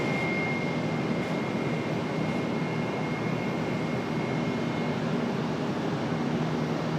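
An Airbus A319 taxis at Charlotte airport, a steady, even jet engine hum holding at moderate distance throughout without a break, with no voices over it.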